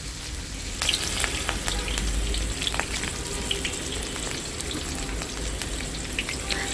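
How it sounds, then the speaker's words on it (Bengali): Chopped onion, garlic and sliced green chilli sizzle in about a cup of hot oil for a loitta fish curry, a close, steady crackle with scattered sharp pops and spatters. "এবার আমি পেঁয়াজ কুচি, রসুন কুচি আর কাঁচামরিচ ফালি দিয়ে দিচ্ছি।"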